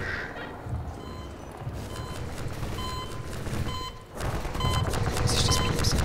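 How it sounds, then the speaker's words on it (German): Repeated electronic beeping from Half-Life 2, a run of short tonal pips over a dense, rumbling game soundscape with steady loud background noise. "Was ist das Piepsen?"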